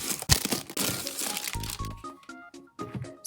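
Plastic packaging around a 72-colour set of WOOMER colored pencils crinkles and crackles close up in quick handling bursts, then quiets as a faint voice briefly comes in.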